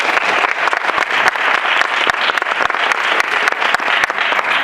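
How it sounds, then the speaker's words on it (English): A conference audience at a keynote speech applauds, dense steady clapping from many hands filling the room without pause, loud and close. "Let's give them a big round of applause, everybody."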